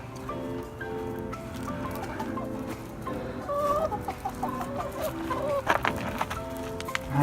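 Backyard hens in a homemade coop in Colorado around evening let-out time cluck and murmur close by, their short, uneven calls growing busier and louder toward the end.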